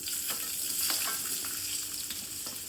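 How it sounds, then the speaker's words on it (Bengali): Cut potato pieces sizzle in hot oil left over from frying pointed gourd, a steady bright crackle with a few sharper spatters and light stirring, close and fairly loud with no talking. "এরপরে ওই তেলেই আমি কেটে রাখা আলুগুলোকে দিয়ে দিচ্ছি"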